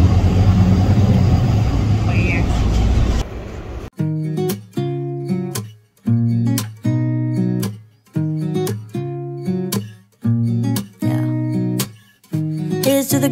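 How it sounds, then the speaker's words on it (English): A steady, loud engine rumble and road noise from inside a moving bus fill the first few seconds, then cut off as music with a regular beat takes over. "I'm in the bus already."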